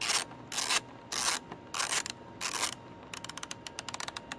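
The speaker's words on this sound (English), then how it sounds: "Okay, I'm using a ratchet" A hand ratchet tightens the air filter housing bolts on a 2004 Honda Odyssey EX. It gives several bursts of rasping clicks, then a run of quicker, sharper clicks at close range, with no speech.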